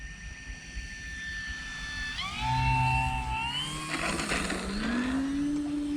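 An E-flite Commander mPd 1.4m electric RC plane doing a touch and go, its motor whine sliding through shifting pitches as it drops low and climbs away, steady and moderately loud against outdoor background, no speech.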